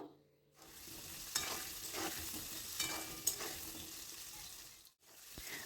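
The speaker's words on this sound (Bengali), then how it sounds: "এখন পটলগুলোকে আমরা ভেজে নেব দিয়ে দেব সামান্য পরিমাণে হলুদ হলুদটা দিয়ে আবারও নেড়ে চেড়ে নেবো" Pointed gourd frying with turmeric in hot oil, a soft continuous sizzle with scraping stirs in a couple of spots, quiet and close with no talking.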